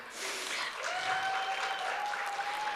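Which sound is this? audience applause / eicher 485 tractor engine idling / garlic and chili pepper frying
audience applause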